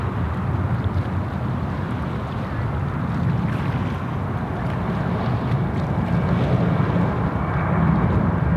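A Qantas airliner rumbles on the runway at Sydney Airport, a steady, loud broadband engine roar with wind buffeting, continuous and unbroken with no voices.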